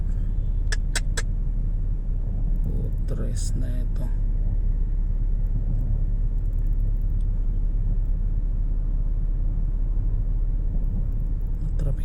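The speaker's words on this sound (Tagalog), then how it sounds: "Traffic na to kasi hindi pinapagana yung stoplight." Congested street traffic in Pasay at an intersection with a dead stoplight: a constant low engine rumble of cars and buses, with short clicks and squeaks early on and someone speaking briefly over it.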